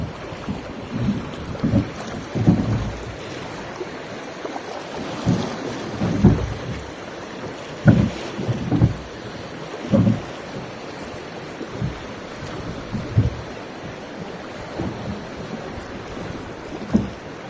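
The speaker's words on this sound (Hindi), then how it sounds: "नदी का बहाव है वो यहाँ पर बहुत ज़्यादा तेज़ है।" A fast-flowing river in Nepal surges in uneven pulses, with wind buffeting the microphone and a steady background wash of flowing current.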